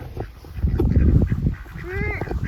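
Several ducks call in a rough, honking chorus against a busy outdoor background, with a clear rising call standing out near the end.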